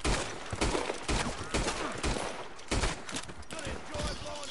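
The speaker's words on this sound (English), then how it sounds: "Shooting from the hip." Rapid gunfire from hip-fired weapons in the online Western game Red Dead Online, with repeated loud, close shot bursts throughout and voices talking over the action.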